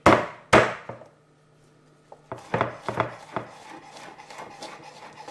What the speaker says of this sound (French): On va prendre l'ail, on va l'écraser et on va l'hacher.